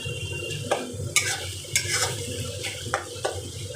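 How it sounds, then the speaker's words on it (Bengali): Tomatoes frying in oil for a homemade tarka, with a steady low sizzle broken by several sharp scraping stirs of a spoon against the pan, close and moderately loud, no talking. "দেখো তেলে দিয়েছি, টমেটোটাও গলে যাবে আস্তে আস্তে"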